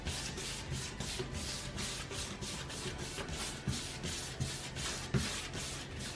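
Wood furniture being sanded by hand to give it a weathered barn-wood look, a steady run of soft rhythmic rubbing strokes, close and fairly quiet, with no voices.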